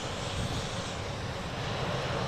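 Jet2.com airliner at Manchester Airport, a continuous broad roar of jet engines held at a steady level throughout, moderately distant with no voices.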